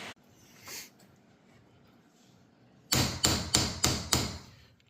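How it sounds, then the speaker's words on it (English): Five sharp metallic taps from a small hammer on a seal driver, fitting trailer wheel bearings, in quick, even succession, close and loud, following a couple of faint earlier knocks in a quiet room. "Always use a smaller hammer on a seal driver"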